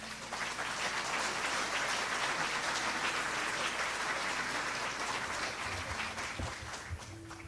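A live audience at a Peruvian music event breaks into sustained, dense applause, a steady wash of many hands clapping that fades slightly near the end.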